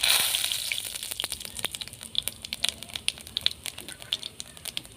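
Onions frying in hot oil with cumin seeds, a steady close sizzle with scattered sharp pops and crackles, loudest at the start and settling into irregular spits.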